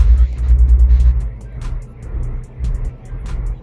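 A Dodge Hellcat with a 392 engine revs hard at a Dallas car meet. Deep, loud, close bursts of throttle rise and fall several times in rhythmic pulses, with brief pauses between blips.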